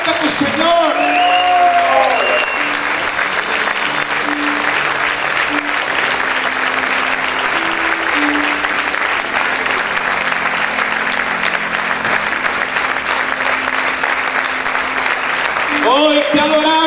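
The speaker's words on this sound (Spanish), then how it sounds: "Dale ese fuerte aplauso al Rey." A church congregation claps loudly and continuously as one dense wall of applause, with music and voices underneath, fading out near the end.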